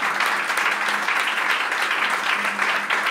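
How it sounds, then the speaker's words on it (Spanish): Dense, steady audience applause fills the room after a jazz master class by the Abe Rábade Trío in Oaxaca, Mexico, in 2015. The clapping stays close and loud, with a faint voice underneath. "Un fuerte aplauso, por favor."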